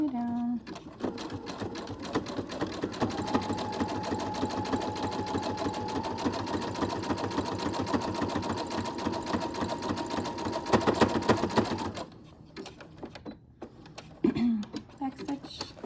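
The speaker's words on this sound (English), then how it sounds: "we're going to zigzag stitch like we were doing before" A sewing machine runs a long, steady zigzag stitch through a homemade fabric medical mask, a continuous fast mechanical whir for about twelve seconds, then stops, with brief handling sounds after.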